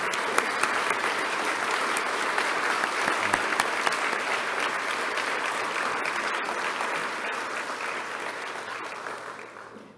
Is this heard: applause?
yes